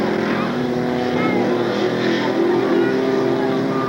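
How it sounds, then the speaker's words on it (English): A V6 truck engine at a mud bog race roars and revs continuously at a steady drone, loud and close, with a commentator's voice talking over it. "The V6, of course, having a distinctly different sound than the big Chevy V8s."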